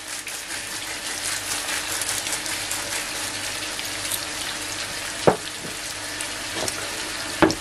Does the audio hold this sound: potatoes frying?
yes